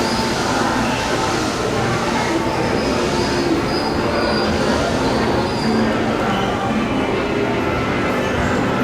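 Main Street railroad train at Magic Kingdom rolling on its rails, a steady dense rumble with wheel noise filling the whole stretch, close and loud.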